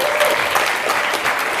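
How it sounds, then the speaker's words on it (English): A live audience breaks into full, dense applause at a talk with Dr Alan Desmond. The clapping is loud and sustained, a continuous wash of hands that stays steady across the short stretch. "I'd like you to give a round of applause for Alan, please."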